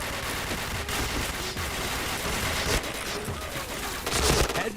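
Gunfire in a shooter video game, dense bursts of rapid shots running continuously over a busy game soundscape, loud and sustained, with a heavier burst near the end.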